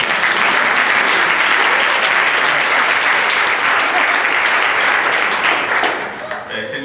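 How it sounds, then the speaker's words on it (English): An audience claps steadily and loudly for several seconds, a dense wash of hands that tapers off at the end. "Okay, clap your hands for that."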